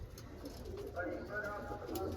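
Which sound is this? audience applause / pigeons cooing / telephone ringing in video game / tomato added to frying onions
pigeons cooing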